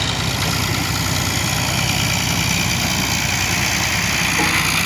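A tractor engine idles at a Pakistani village soil-loading site, where tractor trolleys are filled with earth; a steady, close, low rumbling drone runs evenly throughout with no pauses.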